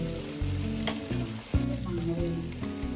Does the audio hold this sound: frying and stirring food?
yes